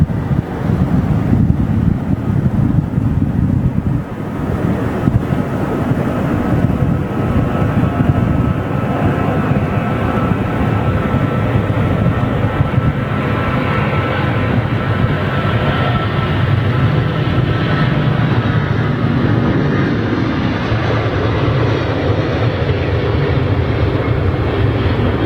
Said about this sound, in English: lovely old Boeing 777-200